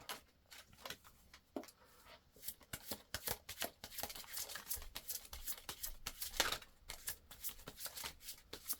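Oracle cards, a deck of goddess message cards, being shuffled by hand in a steady run of quick papery riffles and slaps, close and fairly soft, with no talking.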